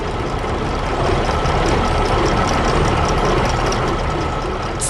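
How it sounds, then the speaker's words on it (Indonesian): Tractors, one red and one green, working farmland together, their engines running in a steady, loud, continuous drone that stays level throughout with no speech. "Traktor merah dan hijau bekerja bersama."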